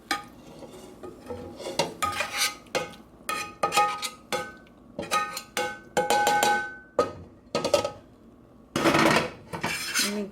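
Ingredients for a vegan chickpea curry are scraped and tipped into a pot of chickpeas: a loud, irregular run of metal spoon clanks, knocks and scrapes against cookware, coming in close bursts with brief pauses, with no talking.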